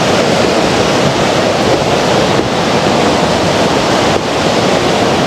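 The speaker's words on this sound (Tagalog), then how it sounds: "Lakas ng agos." Strong rushing current beside Kanas Lake in northern Xinjiang, China, a loud, continuous broadband roar of water close by with wind buffeting the microphone and no pauses.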